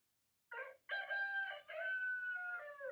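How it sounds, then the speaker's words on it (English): A rooster crows close by in a loud cock-a-doodle-doo: a short opening note, then a long sustained call that falls away at the end, with no talk around it. "Rooster"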